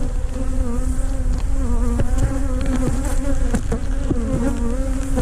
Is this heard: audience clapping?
no